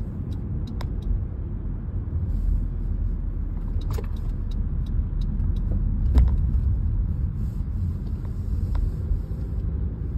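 A car decelerating on the road, heard from inside as a steady low rumble of engine and road noise with faint ticking and light rattles, no talking.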